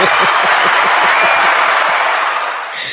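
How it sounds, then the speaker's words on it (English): A live studio audience applauds at a talk show taping, loud and close with a thick wash of claps and some crowd voices mixed in. The clapping fades slightly in the last moments. "I want to hear claps or something."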